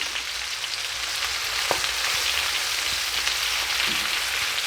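Chicken pieces fry in a pan with a constant dense sizzle and crackle, close and steady, with a few faint taps of utensils and no talking.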